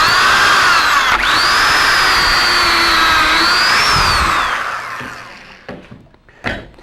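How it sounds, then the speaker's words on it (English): A Kreg Mini pocket hole jig guides a drill boring a pocket hole into 3/4-inch stock, giving a loud, steady high whine for several seconds that winds down, followed by a few clunks and taps. "we'll align the base flush with the edge of the workpiece and drill our pocket hole"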